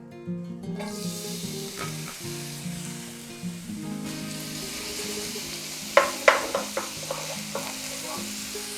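Chives fry in a tablespoon of oil in a hot frying pan, a continuous close sizzle with a few sharp pops and stirring scrapes near the end.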